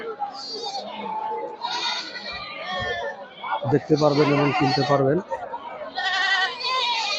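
Black Bengal goats bleat at the Satmohor livestock market, with one clear bleat rising near the middle. Someone talks loudly over them almost the whole time, and the busy crowd noise of the haat fills the background.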